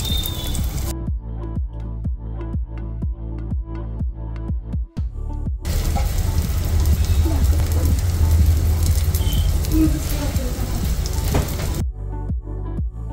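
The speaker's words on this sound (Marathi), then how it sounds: "एक एक करून मी सर्व कटलेट शॅलो फ्राय करून घेते." Beetroot corn cutlets coated in semolina shallow frying in a pan, a steady crackling sizzle that fills most of the clip, with sharp ticks and pops beforehand and a brief quieter stretch at the end.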